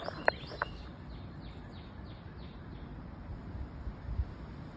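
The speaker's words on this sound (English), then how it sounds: "Like, listen to those birds." Birds chirp and sing faintly on a farm in the late afternoon, with a few sharp calls at the start and a series of soft repeated notes over a quiet outdoor background.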